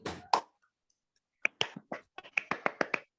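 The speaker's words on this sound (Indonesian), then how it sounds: "ya, tepuk tangan." Children in a fourth-grade online class clap their hands close to the microphone: two quick claps, a pause, then a brisk, uneven run of about a dozen sharp claps, with no talking.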